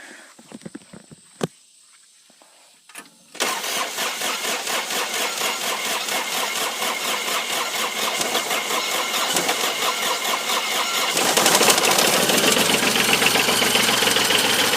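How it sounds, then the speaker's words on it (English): A diesel engine that ran out of fuel cranks after its fuel lines are bled and injectors tightened, then catches and settles into a loud, steady knocking idle that grows rougher and louder near the end. "now we're gonna go ahead and try to start it here"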